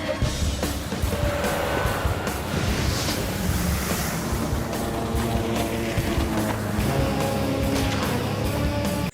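A boat crosses the water from Deira to Bur Dubai, with waves splashing and strong wind buffeting the microphone in a loud, constant roar and no speech.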